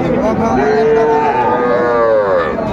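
A bull calf at Raniganj cattle market in Dinajpur lets out loud, drawn-out moos that rise and fall, sounding close over a busy, steady market din.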